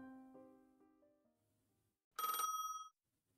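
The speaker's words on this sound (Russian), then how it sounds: "Раздался отчетливый и громкий звонок." Telephone bell in the video game Tiny Bunny rings loudly in a single bright, sharp burst of under a second, following a quieter stretch of soft tonal game music, with no talk over it.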